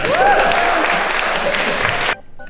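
An audience breaks into loud, dense applause for around two seconds, the clapping packed close together before it cuts off abruptly, with a faint voice rising over the start.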